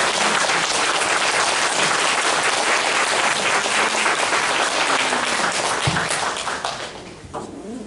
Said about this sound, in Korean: 식구님들의 환영의 박수로 단상에 모시도록 하겠습니다